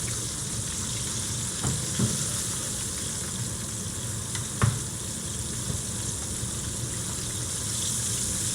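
Fish fries in oil in a pan, giving a continuous moderate sizzle with a few sharper pops and clatters, heard alone without talk.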